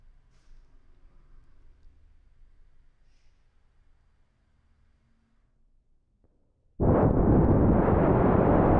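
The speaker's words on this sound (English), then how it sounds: "the envelope on the AP-1 can be used to control the shape of the gate burst." Modular synthesizer gate burst shaped by the envelope on a Cwejman AP-1 audio processor, a sudden loud, dense noisy blast that starts abruptly after near silence and holds steady to the end.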